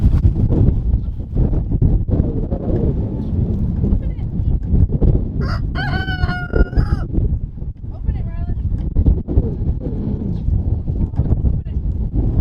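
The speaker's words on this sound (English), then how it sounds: "Ryland, you want to let your chickens out?" Chickens and a rooster on a cold, windy homestead call out in a couple of brief bursts midway, partly masked by steady wind noise on the microphone and by nearby talking.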